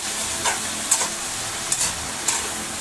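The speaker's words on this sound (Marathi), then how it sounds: "आता भाजून घेते. चांगलं हलवून घ्यायचं, एकजीव करायचं." Spices roast in a hot pan with a continuous crackling sizzle, punctuated by four or five sharp scraping stirs of a spatula, close and fairly loud with no voices.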